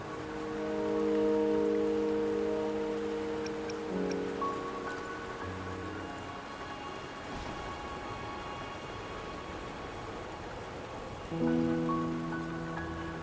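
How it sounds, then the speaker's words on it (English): Steady rain falls in the video game Wuthering Waves, a continuous hiss of drops on surfaces with soft musical tones layered over it, holding an even level throughout. "Don't worry, the rain won't last much longer."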